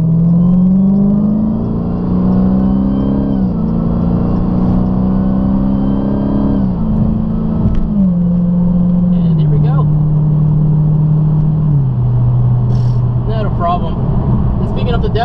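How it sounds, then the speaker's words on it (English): Inside a 2018 Dodge SRT Hellcat with a 707-horsepower engine, which drones loudly and steadily while accelerating to merge onto a freeway, its pitch climbing and dropping through several gear shifts, with occasional talk over the engine. "let's go ahead and see what 707 horsepower can do when merging on the freeway"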